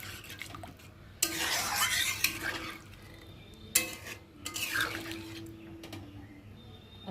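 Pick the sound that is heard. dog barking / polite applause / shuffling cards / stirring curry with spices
stirring curry with spices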